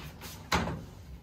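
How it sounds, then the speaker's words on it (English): A balcony door in an apartment is opened with a soft click and a sudden swish of outside air, close by, followed by a steady airy background hum; no one speaks. "Why do I open this door?"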